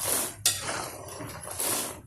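Cheedai, a small Kerala rice snack, rattles and clinks against a metal frying pan as it fries, a steady close scraping jingle with sizzle running throughout and no talk.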